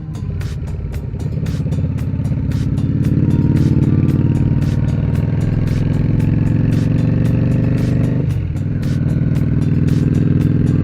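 A Yamaha XVS 650 motorcycle with Vance and Hines Short Shots exhaust rumbles steadily and loudly up close for about eleven seconds. A brief dip in revs comes near the end, and there is no talking.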